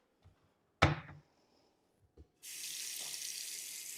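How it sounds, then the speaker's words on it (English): A clunk, then a brief knock, followed by a steady broadband rush of water pouring from a sink tap over chicken in a container, running continuously to the end. "add water till it covers just at the top of the chicken. I'll turn it on"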